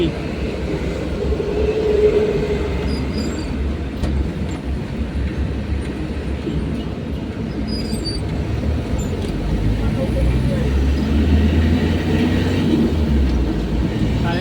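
An LRT light rail train rumbles steadily past at close range in Quezon City, a continuous low roar swelling toward the end, with faint traffic noise around it.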